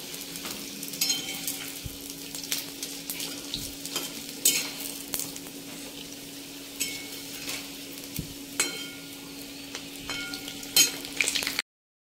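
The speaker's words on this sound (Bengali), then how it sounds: "আর অনেক মোমো ছিল তো কিছুটা ফ্রাই করছি।" Momos fry in oil in a kadai with a steady, even sizzle, broken by occasional clicks and taps from stirring, and no voices.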